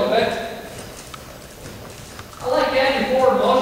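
A horse loping, its hooves clip-clopping in a steady run with a louder stretch toward the end, heard over someone talking.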